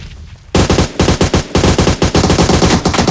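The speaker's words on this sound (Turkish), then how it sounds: "Meriç'ten atışlar geliyor Berkcan'a doğru" Rapid automatic gunfire from the mobile battle-royale game PUBG Mobile during a tournament match, loud bursts of repeated shots starting abruptly after a brief quiet lead-in and continuing in dense volleys with short gaps.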